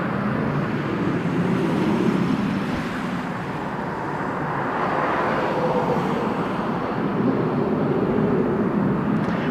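Military jets climbing steeply at Kadena Air Base in Okinawa, Japan, heard as a steady, loud, broadband engine roar that holds without a break and swells slightly toward the end, with no voices.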